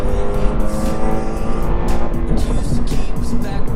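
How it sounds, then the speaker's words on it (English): A Subaru BRZ engine roars loud and close with its fake engine noise switched off, a sustained gritty rev that rises and holds as the car pulls hard. "See, I turned the fake engine noise off, and I still think this car roars."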